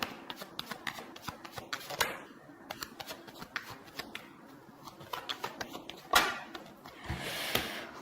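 Tarot cards being shuffled by hand, a quick series of close, crisp riffling and flicking bursts, fairly quiet, with a louder swell of shuffling near the end and no talk.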